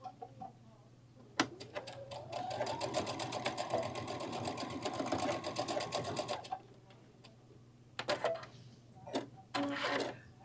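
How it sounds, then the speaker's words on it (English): A sewing machine stitches across a garden lattice clutch bag in a sustained whirring run with a rising motor tone, followed by short bursts of stitching and clicks, all close and alone. "We're gonna stitch across."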